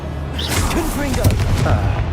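Blasting spell explosion in the Hogwarts Legacy video game, a short booming burst with whooshing, swirling tones, loud and close, no speech.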